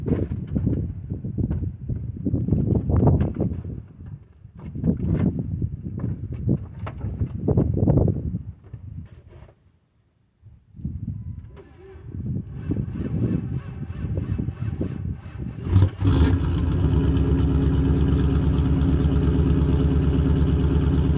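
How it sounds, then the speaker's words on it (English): A 2000 Dodge Durango RT with the 5.9 engine cold-starts on a very cold day in Hampshire County, West Virginia, with 25 mph winds. Strong gusts buffet the microphone for long stretches before the engine catches and settles into a steady, close rumble. "Let's start the Durango up."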